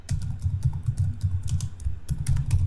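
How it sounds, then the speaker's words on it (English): Rapid typing on a computer keyboard while entering text for a company profile presentation, with close, crisp key clicks in uneven bursts and a brief pause near the middle. "So I'm going to just type"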